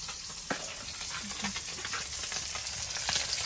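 Steady crackling sizzle of fish frying in hot oil, close and continuous, with occasional louder pops.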